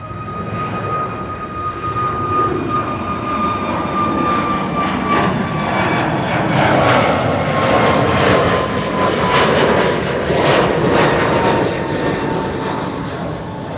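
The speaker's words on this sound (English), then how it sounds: "Transavia A321neo going to Naples." A Transavia Airbus A321neo jet takes off from Schiphol runway 24, bound for Naples, its engines building to a loud, steady roar with a falling whine that swells and fades slightly as it climbs away.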